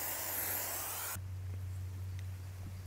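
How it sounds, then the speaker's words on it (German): Tunap frame care spray hissing from an aerosol can onto a Stevens Super Prestige bicycle frame, a loud steady broadband spray for just over a second that stops abruptly, leaving a low hum and faint quiet clicks. "Sprühe das einfach mal drauf."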